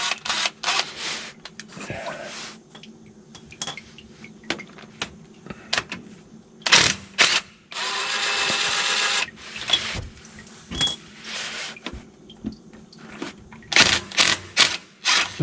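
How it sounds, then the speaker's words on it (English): A ratchet clicks in sharp, uneven bursts while bolts come off a 2005 American Eagle RV during a transmission fluid change, close up, with mechanical clatter and short gaps between bursts. "My buddy Jeff got me this ratchet, man."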